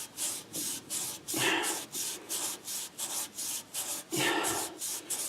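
A rusty bearing seat in a classic Mustang 8-inch rear end is scrubbed with WD-40, giving a steady back-and-forth rubbing rhythm of about a dozen close strokes with no talking.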